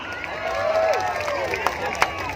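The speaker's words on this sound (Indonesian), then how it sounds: "tepuk tangan" A large crowd at an open-air Jokowi campaign rally in Makassar claps and cheers, a broad steady wash of applause and babble with a few sharper shouts rising out of it.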